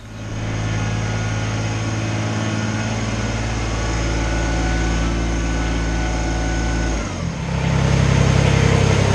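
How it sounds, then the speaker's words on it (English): Kubota BX compact tractor engine running steadily as it reverses into a garage, a close, loud, even drone that dips briefly near the end before returning slightly stronger, with no talking. "I'm going to back the tractor into the garage"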